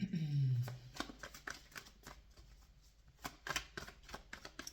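Oracle cards are shuffled by hand in a run of soft, quick riffling flicks and taps close by, after a brief low hum at the start, with no talk.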